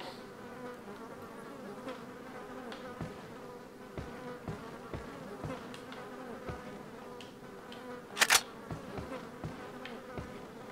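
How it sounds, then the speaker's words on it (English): Small insects buzzing over leftovers in Resident Evil 4, a continuous droning hum of flies and wasps close by, with soft taps scattered throughout and a brief bright rattle partway through. "Many small insects are feasting on leftovers."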